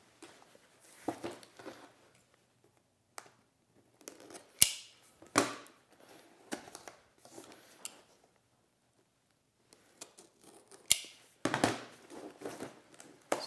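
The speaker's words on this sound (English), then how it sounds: "So we're just gonna cut it open." A cardboard box of a Carbon Collective limited edition is cut open with a blade in short, quiet scraping slices and crinkles, separated by near-silent pauses, close and soft.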